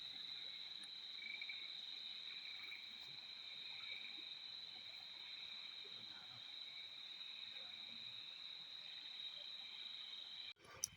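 Frogs and insects calling at night in a forest, a steady unbroken chorus with a high pulsing trill throughout, continuing alone for about ten seconds before a brief knock near the end.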